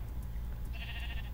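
Sheep bleating in a Minecraft-style survival video game, a single nasal bleat rising midway over a steady low hum and lasting about half a second.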